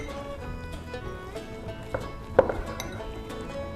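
A spoon scrapes and clinks against a bowl while stirring a tuna mixture seasoned with black pepper and salt, soft rhythmic scraping with a few sharper taps near the end.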